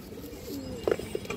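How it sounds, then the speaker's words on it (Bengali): A Road Master pigeon, a homing-type bird, gives a few short, close coos in quick succession near the end, over a low, quiet background. "এই দেখেন রোড মাস্টার কবুতর।"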